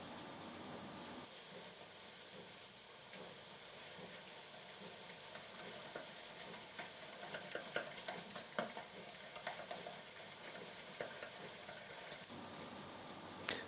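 Six egg yolks creamed with caster sugar in a bowl for pastry cream, a steady scraping and clinking of a whisk or spoon against the bowl, fairly faint, with no voices.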